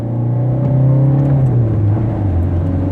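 A 2013 Opel Corsa with a 1.3 diesel engine and five-speed manual gearbox accelerates, its engine droning loud and close with a steady rising pitch, then dropping briefly as if shifting, with no talk.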